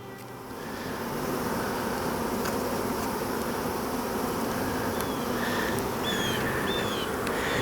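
Honeybees buzzing steadily in a dense, continuous hum while an open beehive is inspected, with a few brief higher whines of individual bees passing close by.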